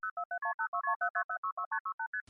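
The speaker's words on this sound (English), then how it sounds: "if you listen in the background, you can hear the multi-frequency tones constantly going on." Multi-frequency signalling tones on a 1976-1981 vintage telephone line: a rapid, evenly paced string of about seventeen short two-tone beeps, clear and alone with no voices.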